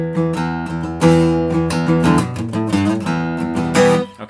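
Acoustic guitar riff picked on the lower strings, a short repeating phrase of separate plucked notes with strums, played close and clear with no talking.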